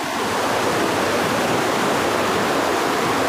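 Flooded mountain river rushing in full spate, a dense, steady roar of churning water filling the whole span, loud and close without any break.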